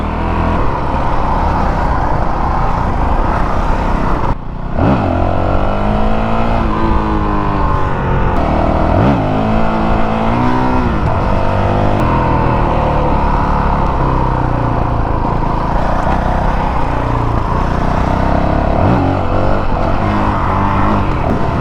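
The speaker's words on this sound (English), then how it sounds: "riding on top of a roundabout and doing a wheelie off of it" A 450L dirt bike revving hard while riding up onto a roundabout and doing a wheelie off it, a loud, close engine roar with repeated rising and falling rev sweeps over heavy wind noise.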